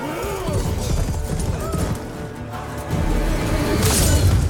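A horse whinnies and its hooves clop in a cutscene from The Witcher 3 video game, mixed with crashing impacts and a heavy thud near the end, close and loud.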